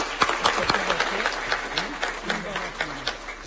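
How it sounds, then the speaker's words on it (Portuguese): An audience applauds at a ceremonial centenary council session, a scattered round of hand claps with uneven bursts that rise and fall, partly mixed with a voice. "Uma salva de palmas do obrigado"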